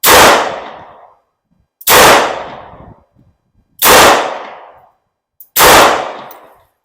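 Four loud, close gunshots from a .38 Special Model 64 revolver with a 4-inch barrel, evenly spaced about two seconds apart, each with a ringing decay before the next.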